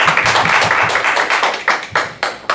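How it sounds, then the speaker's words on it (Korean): A lecture audience claps for the presenter, a burst of many hands at close range that thins into scattered, irregular claps over a couple of seconds. "이 강의를 위해 애써주시고 또 준비해 주신 구기모 이사님께 박수 드리겠습니다."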